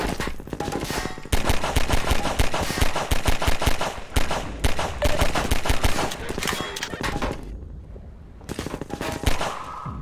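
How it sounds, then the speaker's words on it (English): Rapid pistol fire in Half-Life 2, dense runs of sharp close shots in quick succession with brief pauses between volleys, loud and dominant. "Pistol, best weapon in game."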